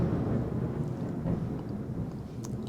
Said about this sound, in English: We got a bit of a thunderstorm going.